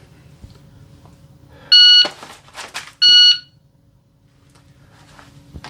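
Two sharp electronic shot timer beeps about a second apart, loud and close, with a brief burst of noise between them against a quiet background.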